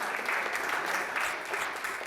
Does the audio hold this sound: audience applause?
yes